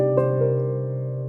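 Felt piano software instrument captured through KM84 microphones with reverb switched off, a soft, muted chord sustaining steadily with a gentle attack and slow decay, close and dry, with no talking.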